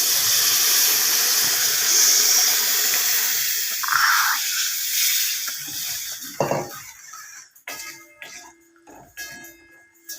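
Hot oil tempering hisses steadily, then boiled spinach dal goes in with a wet splash and the sizzle dies down into bubbling and clinks of a metal pot, close up.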